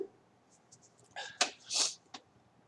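A person sneezes in a classroom, a sharp close burst followed by a softer second puff, with faint murmuring before it.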